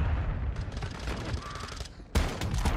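Gunfire in Call of Duty: Modern Warfare 2 during online play, including shotgun blasts, with a dense run of shots and a sharp loud burst near the end, set against steady game noise.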